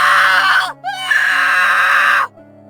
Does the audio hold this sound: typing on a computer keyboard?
no